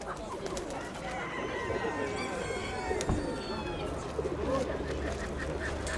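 Pigeons at an outdoor bird fair in Dnipro coo and flutter amid a busy crowd, with honking fowl calls and background chatter of people talking throughout.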